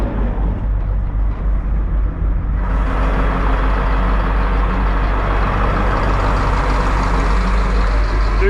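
Detroit Diesel marine engines running in a boat's engine room: a loud, continuous diesel drone and clatter that jumps suddenly brighter and louder a few seconds in as the hatch opens, with no voices.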